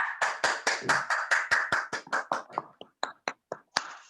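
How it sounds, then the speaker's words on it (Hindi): Hand clapping during an online webinar, a series of about fifteen sharp, distinct claps in a quick, fairly even rhythm that slows and thins out toward the end, close and clear. "शानदार तालियां"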